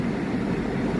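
A passenger train pulls away from Dungarpur railway station in Rajasthan, heard as a brief, steady low rumble of moving rail cars, close and continuous.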